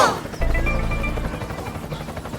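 A cartoon helicopter effect chops in abruptly and holds a steady, loud, rapid rotor thrum with a droning whine above it.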